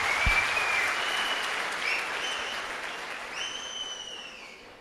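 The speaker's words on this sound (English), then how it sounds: "A big round of applause to all of you." Large audience in a business counselling event hall in Vijayawada applauds at length, a dense, steady roar of clapping with faint whistles or tones above it, tapering off near the end.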